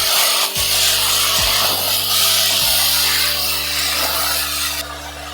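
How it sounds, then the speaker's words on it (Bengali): Note greens (amaranth leaves) stirred in a pan, a continuous loud scraping and rubbing with a few dull knocks of the spatula, alone without talk. "এবারে শাকটা দিয়ে দিচ্ছি। দিয়ে আমি নেড়ে নেব ভালো করে।"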